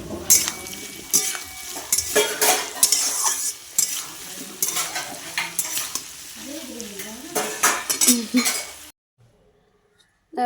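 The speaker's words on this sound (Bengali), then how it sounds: "আলু, গাজর আর মূলো ওগুলো ভেজে নিচ্ছি, তারপরে এখানে ফুলকপিগুলো ভাজবো।" Potato, carrot and radish pieces fry in a pan. Loud sizzling mixes with repeated scraping and clattering of a spatula against the metal, and a faint voice is heard. The sound stops abruptly near the end.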